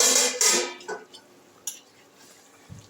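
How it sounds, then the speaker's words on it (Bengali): Fried giant prawns dropped into a simmering malai curry gravy make a few sharp clatters and scrapes of metal utensils against a pot, loud at first and then sparse and quieter, with a soft bump near the end. "এই পর্যায়ে আমি এই যে ভেজে রাখা 10টা মাছ ঝোলের মধ্যে দিয়ে দিলাম।"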